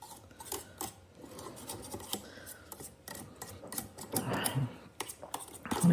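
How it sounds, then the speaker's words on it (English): Homemade butter being scraped off a metal whisk, giving soft close rasping and scratching strokes in an uneven rhythm, quiet with no talking, growing a little louder toward the end. "get the rest of that butter off my whisk"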